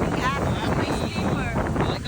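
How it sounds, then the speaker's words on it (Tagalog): Strong wind on the beach at Pagudpud's Blue Lagoon in the Philippines buffets the microphone with a constant rough roar, and faint voices are partly buried beneath it. "Sobrang lakas ng hangin."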